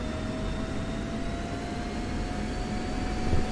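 A steady, fairly loud F-16 jet engine whine and rumble from the DCS flight simulator while taxiing, a constant drone with a faint tonal hum and no talking.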